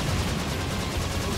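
Turrets in Serious Sam II fire a dense, continuous barrage of gunfire that fills the whole stretch at a steady, loud level, with no pauses and no talk.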